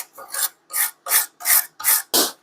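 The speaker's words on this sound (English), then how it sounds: "some 220 grit sandpaper. I'm just gonna scuff this up, go over it" A vintage brass hammer being sanded by hand with 220 grit sandpaper: six steady rasping strokes in even rhythm, close and crisp, with short silent gaps between them.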